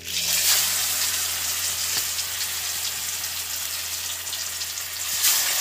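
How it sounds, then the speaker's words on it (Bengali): Pieces of a large sea fish frying in smoking-hot oil, a dense, loud hiss of sizzling with a sharper crackle near the start and end, close up with no voices. "এবার এই তেলের মধ্যে আমি এই মাছগুলো দিয়ে দেবো"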